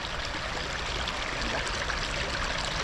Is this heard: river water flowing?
yes